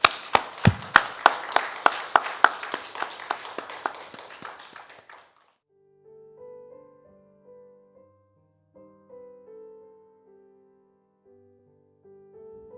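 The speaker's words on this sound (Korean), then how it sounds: "하나님께 감사하며 영광의 박수를 올려드리겠습니다" A church congregation gives a short burst of rhythmic clapping, crisp and fairly close, for about five seconds before it stops and soft organ-like sustained tones follow quietly.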